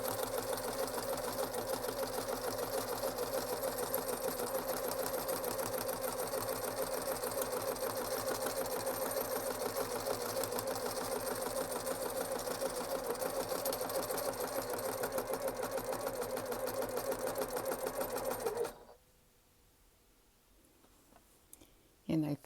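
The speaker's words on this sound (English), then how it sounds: "take the sewing machine in." A sewing machine stitches a felted greeting card in a long, steady mechanical whir of rapid needle clicks that stops abruptly near the end, leaving near silence and a few faint handling noises.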